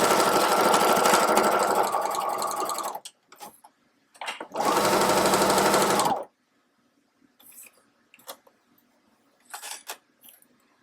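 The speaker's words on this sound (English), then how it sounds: "you're just sewing this around to join it" A sewing machine stitching around a tote bag runs in two loud, fast whirring bursts, separated and followed by quiet pauses with light fabric handling and small clicks.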